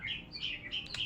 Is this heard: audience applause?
no